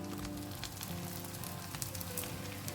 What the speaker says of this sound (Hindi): तो अब इसमें डालते हैं टमाटर। यहाँ पे मैंने 2 टमाटर को चॉप कर लिया है।